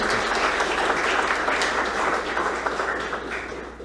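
Steady applause from a crowd, dense clapping sustained throughout at an even level.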